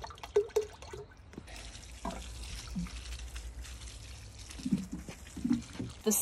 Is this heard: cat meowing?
no